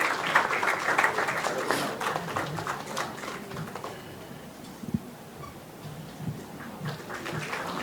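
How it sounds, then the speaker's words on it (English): A round of applause at a hysteroscopy masterclass felicitation, moderate clapping that is strongest at the start and fades to softer scattered claps, heard at a distance in a hall. "A big round of applause for Dr. Manish."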